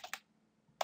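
Close keystrokes on a computer keyboard while an account name is typed into an e-wallet settings form: two quick sharp clicks, a pause of over half a second, then another burst of key taps, with no voices.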